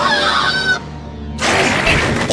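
Two short, loud, honking electronic bird calls sound in quick succession, separated by a brief fading gap.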